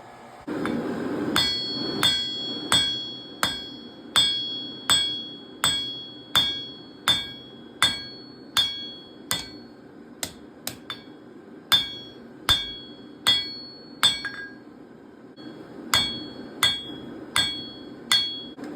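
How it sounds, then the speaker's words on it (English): Steady hammer blows on hot steel at an anvil while forging a dragon's head door knocker, chamfering the edges; about twenty sharp ringing strikes in an even rhythm, loud and close with no talk. "So now I'm just going to go ahead and chamfer it up around the edges."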